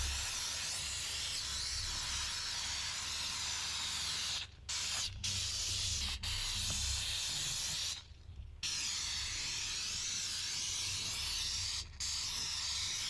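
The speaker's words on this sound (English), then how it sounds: "So as you look at the amount of steam that is coming there" A handheld steam cleaner sprays steam across a car's interior, a close, continuous hissing jet broken by a few short pauses as the trigger is released and pressed again.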